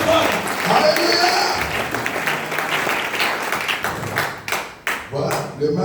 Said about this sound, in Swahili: Unaweza kupiga makofi kwa Bwana.